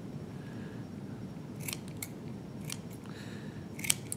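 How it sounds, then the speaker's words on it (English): Several crisp, close snips of small scissors trimming a model tree for tabletop terrain, each cut sharp and separate over a quiet room hiss. "So, kind of just trimming some right through there."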